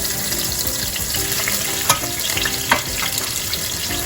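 Yellow, green and orange sweet peppers with seasoning frying in a pan for a Jamaican salt mackerel rundown, a loud constant sizzle with a couple of sharp utensil knocks against the pan.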